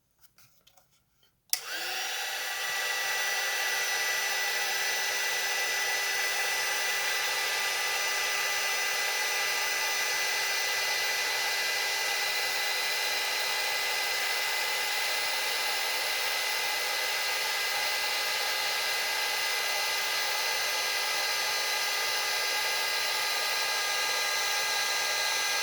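A hair dryer switches on after a brief quiet moment and then runs steadily at a high-pitched whine, drying a watercolor-stamped Christmas card, loud and continuous with no talk.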